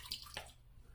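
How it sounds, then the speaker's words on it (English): Water splashes briefly as a shaving brush is wetted under a running tap at a bathroom sink, two short bursts of rushing water close by before it fades to quiet. "So let's get the brush wet."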